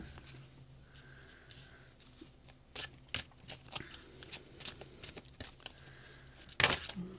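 Tarot cards being shuffled before one is pulled, soft riffling and sliding of cards in quick bursts close up, quiet overall with a sharper slap near the end.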